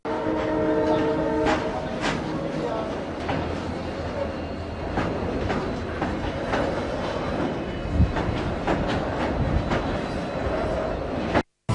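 Water train hauling wagons bound for drought-hit Latur, carrying 5 lakh litres, rumbling steadily with clattering wagon noise and horn blasts near the start, loud and close throughout, then cutting off abruptly at the end.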